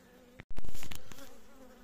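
A honeybee hive with a large breeding queen gives off a steady insect buzz, close and moderately loud, swelling after a brief click and then slowly fading, with no talk.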